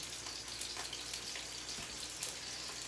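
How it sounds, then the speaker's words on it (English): Scallops sizzle in hot oil in a pan, a steady bright hiss with faint crackling pops, quiet and continuous with no talking. "Now it's sizzling."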